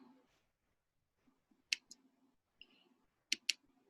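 Two pairs of sharp computer mouse clicks, near and crisp, separated by about a second and a half, in a quiet room with faint background murmur.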